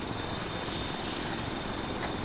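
An extraction helicopter in the military game Arma 3 gives a loud, steady rotor and engine roar that fills the whole moment without letup.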